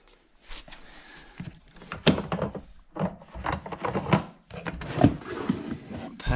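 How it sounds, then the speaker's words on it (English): Milwaukee Packout tool storage drawers slide open and shut, with repeated close rubbing, scraping runs and bumps, several cycles in quick succession, loud and near. "Packout drawers."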